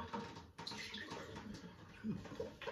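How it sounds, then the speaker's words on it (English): Running water rinses a straight razor after a shave honed on an old rock coticule, a steady splashing flow close by with a few brief clinks. "Just got to rinse that off."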